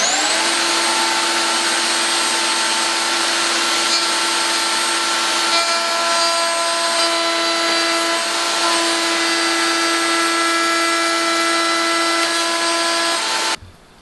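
A digital router cutting 10mm-deep notches into wood against a fence, its steady high-pitched whine loud and continuous for the whole stretch before cutting off abruptly at the end.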